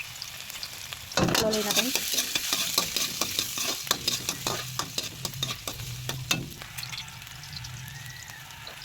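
Ginger drops into hot cooking oil with a sudden loud sizzle that carries on steadily, punctuated by sharp clinks and scrapes of stirring; a voice briefly speaks over it.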